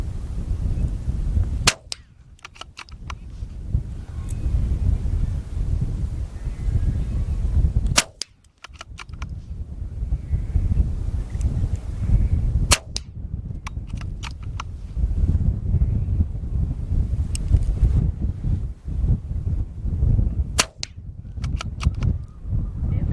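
Lithgow LA101 Crossover .22LR rifle fired outdoors at a range target, sharp close cracks spaced several seconds apart over steady wind and background noise.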